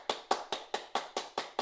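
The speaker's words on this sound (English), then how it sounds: "this is when you guys are supposed to be clapping" Eight sharp, evenly spaced hand claps in quick steady rhythm, fairly close and moderately loud, standing alone without voices as a small audience claps on request.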